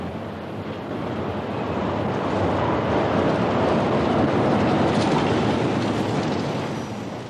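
The Schwebebahn suspended overhead railway in Elberfeld rumbles past as a broad, steady roar that swells and then fades slightly, with wind-like noise and no talking.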